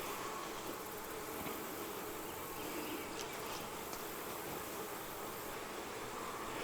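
Bees buzzing around a beehive in a fall bee yard, a faint, even drone that holds steady throughout with no voices.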